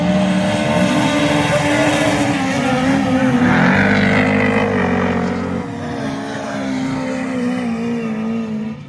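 Autograss race cars, including a 2-litre Vauxhall and a 2-litre Honda, roar past together in a steady, loud, continuous engine drone. One engine swells briefly near the middle, and the sound eases slightly toward the end.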